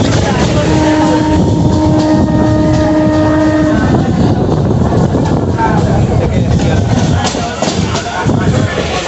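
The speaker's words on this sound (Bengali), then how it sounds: "তো এই আমাদের মালগাড়ি। গন্তব্য স্টেশন বারাসাত জংশন।" A freight goods train rolls past near Dum Dum in a loud, continuous rumble of clattering wagons, with steady rail noise and wind throughout and a few drawn-out tonal squeals early on.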